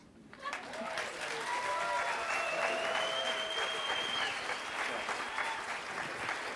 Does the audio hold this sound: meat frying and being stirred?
no